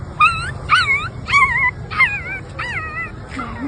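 A voice imitates a small puppy whimpering: a series of five or six high, wavering whines in quick succession, close and fairly loud, ending with a lower murmur.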